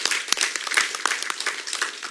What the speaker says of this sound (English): And can we have a round of applause?